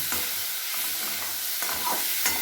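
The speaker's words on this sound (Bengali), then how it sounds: "ভালো করে মশলাটা আমি এবার কষিয়ে নেব" Spice masala of chilli and turmeric powder is stir-fried in a pan with a constant loud sizzle and hiss, broken by soft scraping stirs every half second or so.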